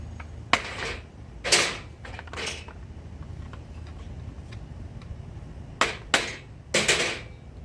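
Hammer taps driving a Torx T30 bit into seized screws on a Stihl FS110R trimmer; a few sharp, close metallic strikes come singly and in pairs with quiet pauses between them.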